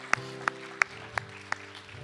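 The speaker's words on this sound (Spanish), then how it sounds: "Dale palmas a nuestro Rey" A church congregation claps five times in slow, even unison, each clap sharp and distinct, over a steady sustained musical drone.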